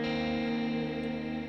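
A single sustained electric guitar chord rings out through an amp, smeared with echo and reverb, holding steady and slowly fading.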